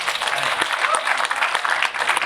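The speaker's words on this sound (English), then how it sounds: "did someone feel like clapping?" An audience at an awards night claps in a lively, continuous burst of applause, a crowd of hands close by with some voices mixed in.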